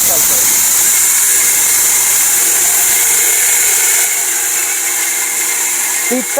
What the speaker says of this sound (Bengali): এখানে একটু আধা কেজি চাউল গুঁড়া করে দেখাবো